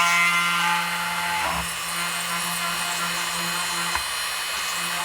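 A small power drill whines steadily as it bores a hole in a 1:1400 scale U.S.S. Enterprise NCC-1701-C starship model, a close, continuous tone with a faint electrical hum beneath.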